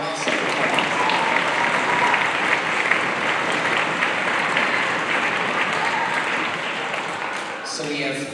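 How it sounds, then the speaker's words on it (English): A middle school spring orchestra concert audience gives sustained, loud, dense applause for sixth graders, steady for about eight seconds before starting to taper off. "can we give them one more round of applause for an awesome performance?"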